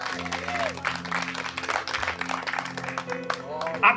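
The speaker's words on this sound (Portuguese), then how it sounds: "Pode aplaudir o Senhor." Church congregation applauding during a sermon, a steady mid-level clapping spread across the whole span, layered with sustained organ or keyboard tones and voices talking underneath.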